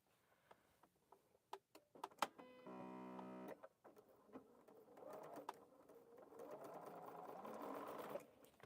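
Sewing machine piecing small quilt pieces with a quarter-inch foot and single-hole needle plate, running in two bursts: a short steady whir, then a longer, fainter stitching run, with scattered clicks and handling taps between.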